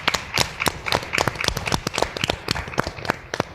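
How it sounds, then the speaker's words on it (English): A round of applause for a speaker at a convention panel: dense, fast, close clapping from a group of people, steady and continuous throughout. "Can we please give her another round of applause?"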